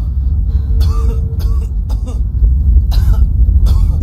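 A man coughs several times in short, harsh bursts, close and loud, over a steady low rumble of engine noise.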